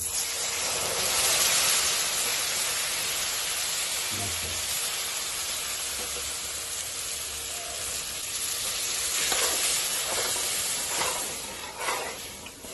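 Loud, steady sizzling and hissing as milk is poured into moong dal halwa frying in a pan over medium flame, with some stirring scrapes and bubbling toward the end.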